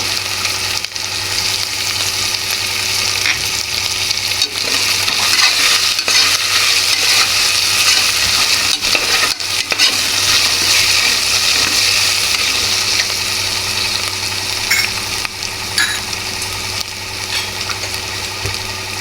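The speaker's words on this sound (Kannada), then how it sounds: "ಇದು ಲೈಟಾಗಿ ಬಾಡಿಸ್ಕೊಳ್ಳಿ. ಕೊತ್ತಂಬರಿ ಸೊಪ್ಪು," Green chillies and coriander leaves sauté in a pan, giving a loud, steady, continuous sizzle over a faint background hum; nobody speaks.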